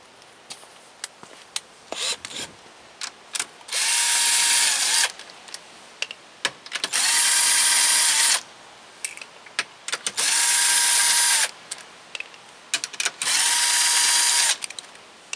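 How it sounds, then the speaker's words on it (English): A cordless power tool spins nuts off the rear brake of a 1996-2000 Honda Civic in four loud, whirring bursts of a few seconds each, separated by clinking and handling sounds. "just going to use a cordless setup and take those bolts off,"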